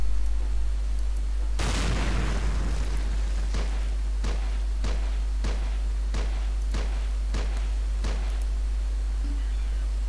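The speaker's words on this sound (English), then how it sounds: "Mortars are landing very short." Mortar shells land in the Close Combat: Modern Tactics video game. One big, close blast is followed by a run of sharp, regularly spaced distant impacts over a constant low rumble.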